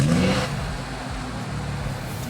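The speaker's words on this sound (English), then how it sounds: "Let's start the engine." A BMW M135i engine fires up at close range: a brief starter whir and catch, then a loud, steady idle rumble settling in with no talking over it.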